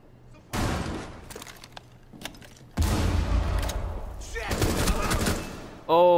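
Video game gunfire comes in loud bursts and rapid volleys during a hostage mission, mixed with booming hits. A player talks excitedly over the shooting.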